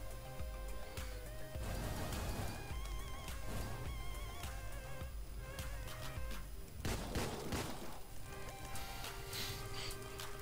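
Gunshots from a 9mm pistol in the video game Deadbolt, sharp bursts scattered through a dense, continuous layer of game music and effects, with a heavier cluster of shots near the middle.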